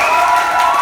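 Improv theater audience cheering and applauding, a dense, loud wash of crowd noise with no pauses across the brief moment.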